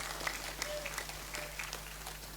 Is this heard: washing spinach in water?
no